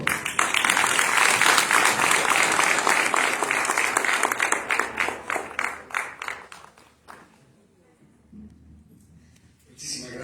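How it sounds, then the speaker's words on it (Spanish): Loud, dense applause from an audience at a presentation by Dr. Hugo Alejandro Villar, sustained for several seconds, then breaking into scattered claps and fading to near quiet before a brief noise returns. "Un fuerte aplauso, por favor."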